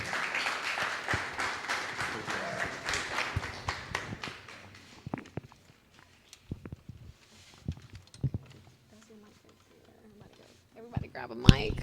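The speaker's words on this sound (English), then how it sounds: "Clap it up, clap it up." A crowd at a men's diversity celebration event claps in a scattered, uneven burst that tapers into isolated claps and a few taps, with murmuring voices in the room.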